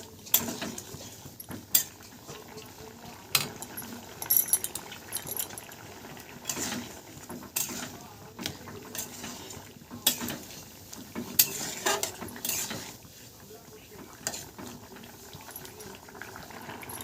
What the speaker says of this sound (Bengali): ঝোলটা আমাদের ফুটতে আরম্ভ করেছে।